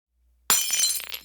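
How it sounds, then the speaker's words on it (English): A single sharp crash of glass breaking bursts out of silence, followed by a short scatter of tinkling shards that dies away within a second. "Be careful, don't step on the broken glass."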